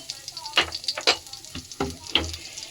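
Crackling sizzle of cumin seeds hitting hot oil, with a few sharp pops and stirring scrapes over about three seconds, close up.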